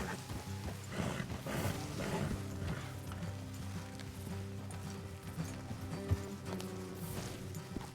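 Horses clip-clopping along a road in the video game Red Dead Redemption 2, a steady hoofbeat rhythm amid quiet ambient game sound, with no speech.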